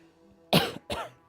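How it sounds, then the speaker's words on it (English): Two quick coughs, close and moderately loud, the first sharper than the second, over quiet background. "I'll just cough to make up for it."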